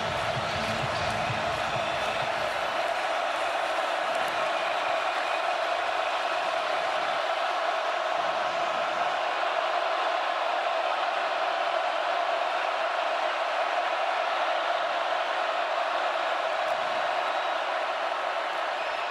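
A stadium crowd at a college football game between Ole Miss and Oklahoma roars steadily in a dense, loud wash of cheering and noise that never lets up, with a commentator's voice faintly underneath.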